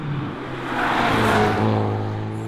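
A Hyundai i30N's engine flares and rises in pitch as a paddle downshift blips the revs, a smooth loud whir heard from inside the car with no one talking.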